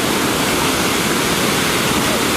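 A waterfall at the Phutara Glamp campsite roars in a steady, dense wash of rushing water, loud and close, with no breaks throughout.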